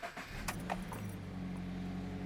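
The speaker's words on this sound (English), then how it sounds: "I'll go ahead and turn it on for you" A 2014 Scion FR-S engine cranks and catches, then settles into a steady low hum close by, with a brief jingle of keys at the start.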